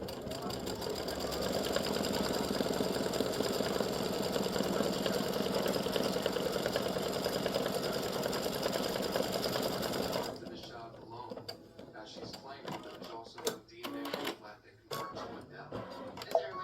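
An embroidery sewing machine stitching free standing lace, with a loud, steady rapid whirring and ticking that stops abruptly, followed by light handling clicks and a person talking.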